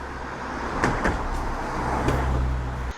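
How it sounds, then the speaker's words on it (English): Road traffic passing nearby outdoors, a steady low rumble of vehicles with a couple of swelling passes and a brief clunk near the end, no voices. "There's a little bit of traffic about"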